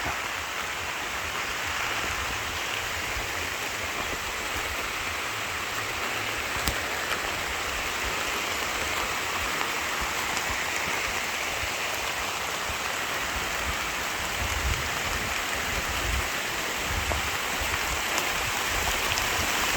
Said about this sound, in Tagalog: Kusog, kusog, kusog ulan.